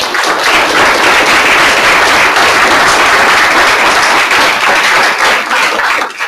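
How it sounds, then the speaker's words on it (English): Audience applause for students presenting at a school district governing board meeting, a dense, steady wash of many hands clapping that carries on loudly through the whole stretch, with no talking. "So if we could give them one more round of applause."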